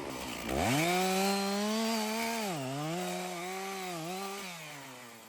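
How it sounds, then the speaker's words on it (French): A chainsaw starts up and runs steadily nearby in a forest, its engine pitch dipping and rising as it bites into wood. "On va passer la tronçonneuse."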